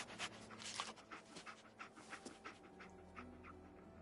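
A dog companion pants softly in the game Fallout 4 while picking up a scent: quick, rhythmic breaths, faint and steady, over a low background hum.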